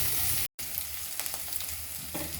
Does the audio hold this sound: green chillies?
yes